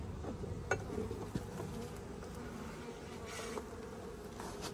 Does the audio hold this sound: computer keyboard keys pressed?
no